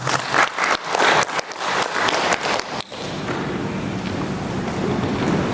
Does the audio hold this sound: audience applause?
yes